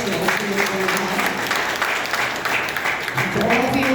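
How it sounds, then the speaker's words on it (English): An audience at a Shivratri gathering breaks into sustained applause, a dense wash of many hands clapping at steady loudness with some crowd murmur and faint voices beneath. "can you give them a round of applause?"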